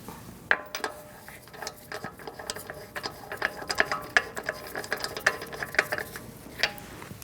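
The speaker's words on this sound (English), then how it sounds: "You are going to need your socket to do that." Socket ratchet threading a lug nut onto the front wheel hub of a 2008-2014 Mercedes-Benz C300, producing rapid, close, repeated clicking bursts of the pawl with brief pauses, no talking.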